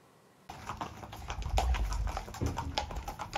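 Show-jumping horses from a French stable walk on hard ground, close, steady clip-clopping hooves starting abruptly and continuing with some shuffling, no talk.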